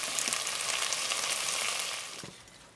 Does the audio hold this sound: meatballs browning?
yes